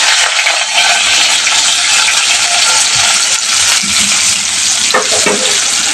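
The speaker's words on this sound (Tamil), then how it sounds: "சேர்த்துட்டு நல்லா ப்ரௌனாக வர வரைக்கும் ஃப்ரை பண்ணிக்கலாம்" Finely chopped large onion frying in hot oil with popped mustard seeds, a loud, steady, close sizzle throughout, with occasional stirring scrapes and small clinks near the end.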